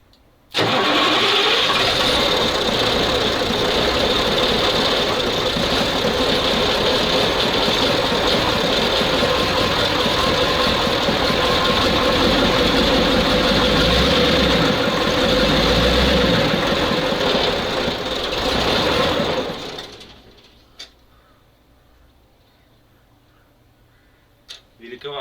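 An old ZIL truck, left standing for 20 years, cranks and fires into a loud, rough idle that runs steadily close by for about twenty seconds before cutting off to near silence with a few clanks.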